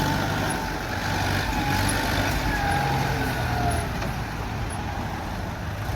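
A Kubota M108S tractor pushes soil to shape a slope, its steady diesel engine drone holding loud and constant throughout with no voices.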